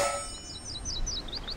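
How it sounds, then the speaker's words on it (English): Town bell in Age of Empires II, a bright metallic clang that rings out with a chiming, wavering tail of repeated tones, loud and alone. "ring the town bell again to send them back to work"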